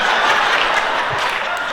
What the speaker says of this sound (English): wait, stop clapping